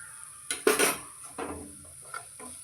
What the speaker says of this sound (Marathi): ह्याचं कच्चेपणा जा जाईपर्यंत आपण छान त्याला परतून घेऊया